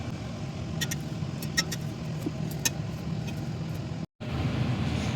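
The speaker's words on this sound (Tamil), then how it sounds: "இப்போ இந்த சோயா சங்க்ஸை நான் வந்து ஒரு மிக்சர் ஜாரில் வந்து போட்டு நான் வந்து அரைச்சி எடுத்துகிட்டு வரேன்" A mixer grinder jar whirs steadily as it grinds soaked soya chunks, a continuous, fairly quiet motor hum with a few light clicks and one brief cutout near the end.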